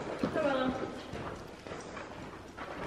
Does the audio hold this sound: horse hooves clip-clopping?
yes